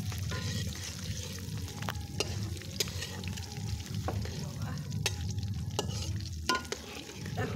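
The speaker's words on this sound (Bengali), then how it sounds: "আমি এখন 1 চামচ পরিমাণ আস্ত জিরাটা দিয়ে দিচ্ছি" A spoonful of whole cumin seeds sizzling in hot oil, a steady, close frying hiss broken by occasional crackles and stirring sounds.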